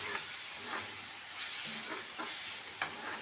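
Onions sauté in a pan for a Tamil mutton kulambu, a continuous frying sizzle and hiss with occasional stirring scrapes and pops, close and steady.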